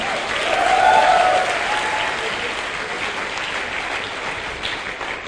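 Loud, dense applause from an audience at a Safe Shop networking seminar, swelling early then holding steady throughout, with faint crowd murmur underneath and no speech.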